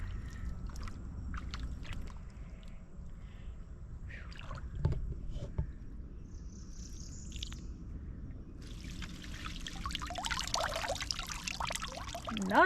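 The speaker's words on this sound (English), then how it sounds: "Just listening to the water run through the wood and the branches" Water trickles and gurgles softly through wood and branches, with faint splashes and a louder rushing burst toward the end.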